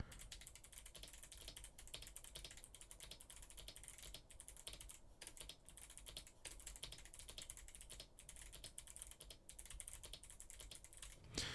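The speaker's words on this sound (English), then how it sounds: "And now let's hear the clicky noises of the keyboard." Clicky mechanical keyboard with Kailh Box White switches being typed on steadily, a dense run of crisp close keystrokes with no talking.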